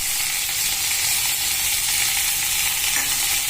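Fenugreek leaves fry in a pan, a loud, close, continuous hissing sizzle with light stirring underneath, steady and unbroken with no voices.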